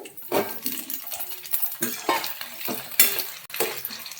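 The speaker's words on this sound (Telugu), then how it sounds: "ఇవన్నీ కలుపుకొని ఎర్రగా వేయించుకుందాం" Onions, dry red chillies and brinjal fried in oil with cumin, heard as soft sizzling beneath repeated metal spoon clinks and scrapes against the pan, fairly quiet.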